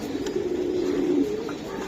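Pigeons, including a full-vibration male, kept in a cage at a market stall, give a steady low cooing drone through the whole moment, close by with no talk over it.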